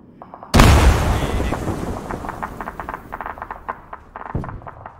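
A frag grenade goes off indoors in Arma 3 with a single loud, close blast that rolls into a long, decaying rumble, followed by scattered clicks and faint rattling.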